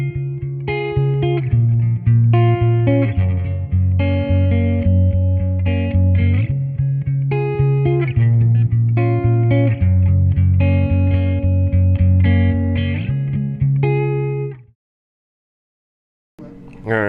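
Fender Jaguar electric guitar, Classic Player or Vintera, played clean through a Cloudburst reverb pedal with a touch of reverb, ringing chords and melodic lines loud and steady for about fourteen seconds, then a short silence before a new strum.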